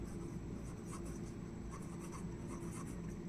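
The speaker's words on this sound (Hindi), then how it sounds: "तो यहाँ लिखेंगे अंशुल" Pen writing on paper while a banking recurring-deposit maths problem is worked through, a steady close scratching with small stroke bursts over a constant low hum, no voices.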